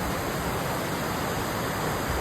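Top of a waterfall at night, where a small stream drops off a steep edge: a steady, dense rushing roar of falling water, close and continuous without a break.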